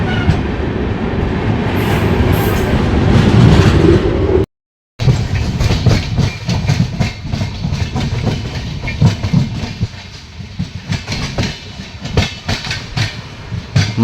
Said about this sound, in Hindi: Agra fort Lucknow junction intercity train चल पड़ी है